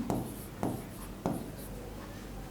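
A pen scratches across paper during a handwritten accounting solution, in three sharp strokes spaced about half a second apart over a steady faint hiss, close and clear with no voices.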